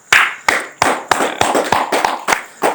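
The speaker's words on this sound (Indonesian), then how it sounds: "Diberikan aplaus dulu nih." Sharp irregular bursts of clapping from a seminar audience, about eight or nine loud percussive slaps in quick uneven succession over a few seconds, close and alone without voices.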